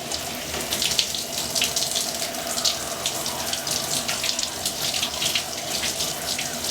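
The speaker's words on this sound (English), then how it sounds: "So welcome to my shower." Home shower spraying onto wireless earbuds during a water resistance test, a loud, continuous hiss of falling water with light splashing texture and no talk.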